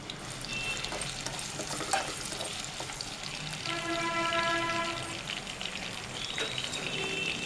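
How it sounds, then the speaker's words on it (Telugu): Sliced onions frying in hot oil in a home kitchen make a continuous, close sizzling crackle with light stirring scrapes and a faint tonal hum in the background. "ఇప్పుడు ఆయిల్ కాగిందండి, ఉల్లిపాయలు వేసుకుందాము."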